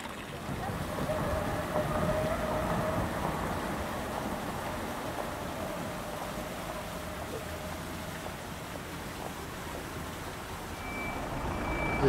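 A tow truck's reversing beeper sounds steadily over a broad low rumble of traffic and wind in a city setting near Prague castle.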